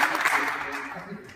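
An audience at a senior citizens' get-together party claps in a brief, fading burst of applause, fairly close and unaccompanied by talk.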